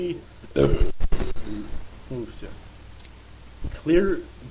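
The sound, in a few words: belching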